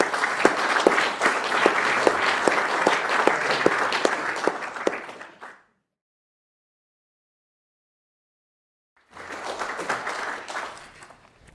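Audience at a technology business event applauding, a full, steady round of many hands clapping that cuts off into silence, followed by a second shorter burst of applause that tapers away.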